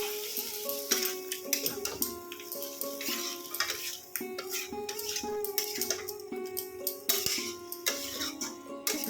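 Young jackfruit and shrimp curry sizzles in a pan, a continuous frying hiss under frequent clinks and scrapes of a utensil against the pan, moderately close.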